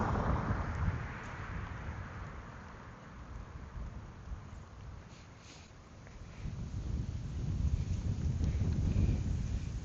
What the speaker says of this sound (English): it is certainly windy